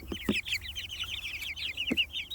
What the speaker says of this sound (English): even if you don't think they're cute, you can't deny they sound cute.